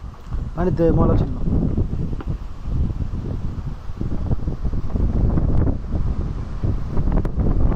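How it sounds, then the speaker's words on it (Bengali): Strong wind buffets the microphone outdoors with a continuous loud, low rumbling roar, and a short voice is heard near the start. "কি বাতাস রে ভাই"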